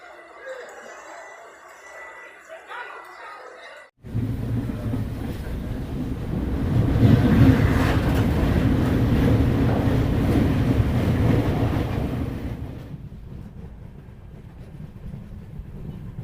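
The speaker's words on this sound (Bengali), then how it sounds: "এখানে নির্ধারিত সময়েই এসে Kanchankanya express one three one four nine Sealdah থেকে আলিপুরদুয়ার জংশন যাওয়ার এই গাড়ি" The Kanchan Kanya Express, Sealdah to Alipurduar Junction, pulls into Bagdogra station with a loud steady rumble and rolling clatter that swells and then eases, preceded by quieter ambient platform noise.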